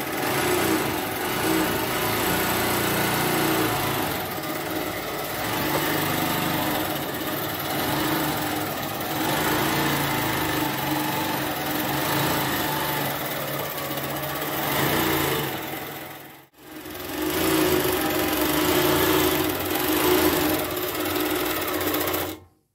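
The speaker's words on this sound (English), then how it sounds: "So this is Wadi's quilt, and she's doing quite simple wavy lines" Sewing machine quilting simple wavy lines, a fast steady mechanical whirr and needle clatter running continuously, close and loud, with one brief stop before it starts again.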